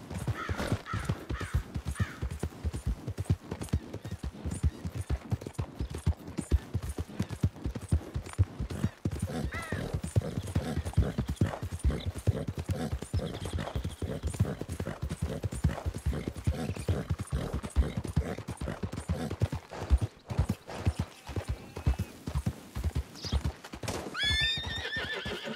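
Steady clip-clop of horse hooves with a whinny and neighing in the video game Red Dead Redemption, loud and continuous, with faint bird calls near the end.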